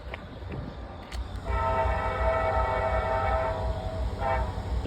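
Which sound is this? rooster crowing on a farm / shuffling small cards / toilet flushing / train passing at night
train passing at night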